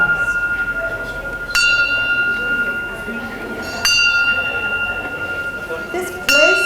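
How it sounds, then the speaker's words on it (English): A church bell on a bluff in Hilo strikes three times at slow, even intervals, each ringing tone lingering over a steady background hum. "the bell of the foreign church, standing atop a beautiful bluff of Hilo,"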